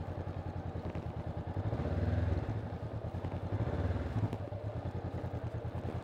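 A motorcycle engine runs steadily at low revs during slow-speed riding practice with constant throttle and clutch control, a continuous pulsing rumble that swells slightly twice, heard close and fairly quiet.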